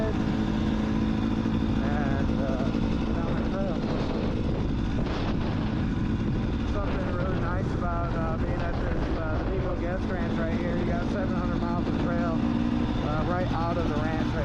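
A dirt or trail motorcycle rides a short stretch of road near a ranch in South Dakota, its steady engine drone running loud and continuous throughout with shifting revs, while a person talks over it.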